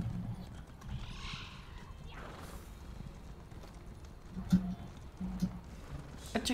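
Horse hooves in the fantasy role-playing game The Elder Scrolls Online, with soft irregular clip-clop steps over a quiet ambient bed, a few sharper hoof knocks near the end and faint whooshing sounds earlier.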